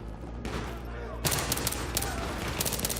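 Rapid gunfire in the Battlefield 3 video game fills the clip, loud continuous bursts that intensify about halfway through, with a player's voice faintly under the shooting.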